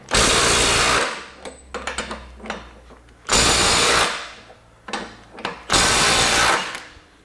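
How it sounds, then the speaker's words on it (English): Three long, loud hammering bursts from a Milwaukee Gen 3 M18 compact impact wrench loosening tightened nuts at around 250 foot-pounds, separated by quieter clicks and handling noises. "It's easily got 250 foot-pounds of nut busting force."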